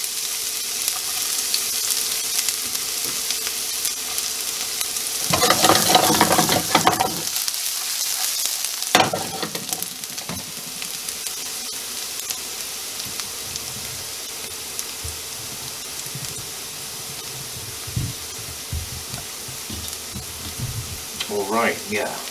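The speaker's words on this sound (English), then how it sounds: "Let's hit it with some shallots." Shallots hitting a hot saute pan give a sudden burst of sizzling, then a second short flare. A quieter frying hiss continues under someone talking.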